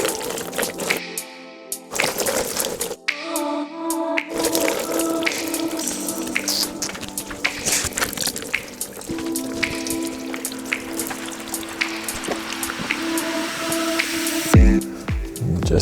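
Coolant drains from the drain plugs of a BMW E46 Touring cooling system, a close, steady splatter and trickle of liquid with a few brief pauses.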